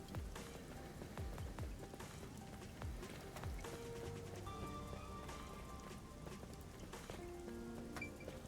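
Rain patters steadily across surfaces in the video game Rain Code, forming a dense, constant wash mixed with faint game tones and occasional splashes.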